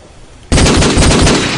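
Sustained rapid automatic gunfire in Call of Duty 4 during a competitive tournament final, bursting in abruptly after a quiet moment and continuing loud and dense without pause.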